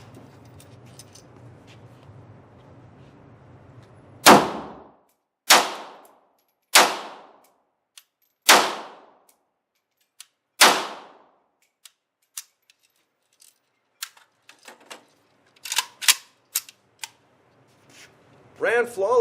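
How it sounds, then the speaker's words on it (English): Five loud, sharp gunshots ring out about a second apart from a FIME VEPR AK-pattern rifle fitted with an ALG AKT trigger, after a rumbling lead-in, followed by scattered clicks and handling clatter. "We're going to put some rounds through it and test it out"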